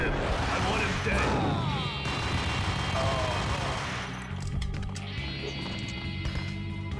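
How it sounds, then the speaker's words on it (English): A grenade blast amid rapid gunfire in the Max Payne video game on PS4, a loud sustained roar of shots and explosion with dense noise over several seconds, with game voices underneath. "That was a grenade."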